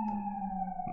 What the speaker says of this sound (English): That's the siren that says the stream is ending.